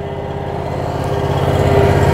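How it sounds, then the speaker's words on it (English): Engine idling steadily while a vehicle fluid exchange machine draws water and antifreeze, a continuous low rumble with an even hum, close and fairly loud, growing slightly louder over the short span. "For this process, we can just leave the engine idling."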